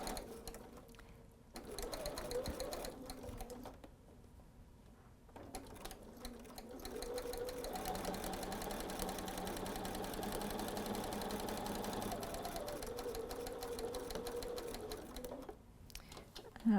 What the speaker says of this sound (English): I'll be sewing with my BERNINA 770 Quilters Edition